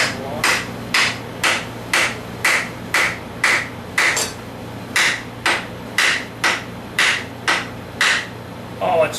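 A hammer drives a wooden handle down onto a tool head, about eighteen sharp, evenly spaced blows ringing out close and loud in a steady rhythm.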